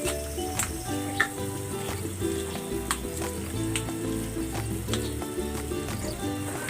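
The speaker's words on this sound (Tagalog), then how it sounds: "Ayan, kumukulo na." Chicken sotanghon soup boils in a pot, a soft, continuous bubbling and sizzling hiss at low volume with a few faint clicks scattered through it.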